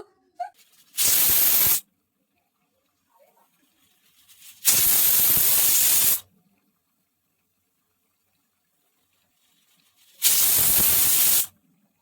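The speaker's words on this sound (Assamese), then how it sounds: "এতিয়া বহাই দিলো কুকাৰটো, 5-6টা চিটি মাৰিলে হৈ যাব" A pressure cooker cooking mutton on the stove lets off three loud, separate bursts of hissing steam, each lasting about a second, with quiet gaps between them and no talking.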